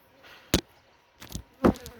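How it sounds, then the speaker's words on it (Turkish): A few brief insect buzzes pass close by, loud and quick, separated by near silence. "Arılar da peşimizi bırakmıyor. İki tane geldi."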